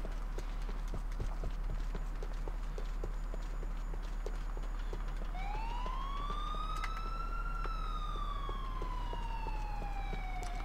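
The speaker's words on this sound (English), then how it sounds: "Is that an ambulance?" Ambulance siren in the video game Grand Theft Auto IV rising and wailing in the second half over a steady rhythmic clatter of game background noise, moderately loud, with no talking.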